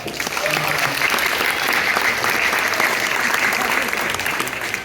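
An audience at a science fair presentation gives a round of applause, a loud, continuous burst of clapping close by that holds steady throughout, with faint voices mixed in.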